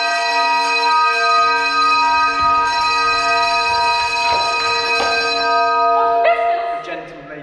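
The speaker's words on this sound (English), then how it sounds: "ring the alarum bell" A loud bell rings steadily as an alarm during a stage performance of Macbeth, a sustained ringing tone that holds, then falters and fades near the end.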